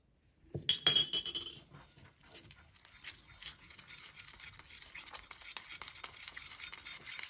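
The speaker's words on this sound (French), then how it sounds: "ajoutez 15 ml de café avant de mélanger" Coffee being stirred into a powdered-sugar icing for a coffee cake: a sharp clink at the start, then a long run of soft, thick scraping and stirring strokes in a bowl, close and fairly quiet, with no talk.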